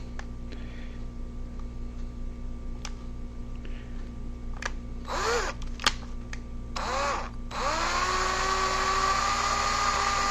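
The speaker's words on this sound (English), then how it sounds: "So I'm using a 1/16 drill bit." A small drill with a 1/16-inch bit whirs in short, high-pitched bursts, then runs steadily toward the end, close by over a constant background hum.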